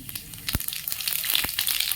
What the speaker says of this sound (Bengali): বড়ি ভাজার তেলে দিয়ে দেবো কিছু পরিমাণ মানে চার চামচের দু চামচ পাঁচ ফোড়ন